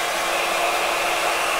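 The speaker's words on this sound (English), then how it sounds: "I just used the hair dryer, warmed up both areas" Hair dryer blowing steadily while warming an AR lower receiver, a close, loud, even whooshing hiss with no talk.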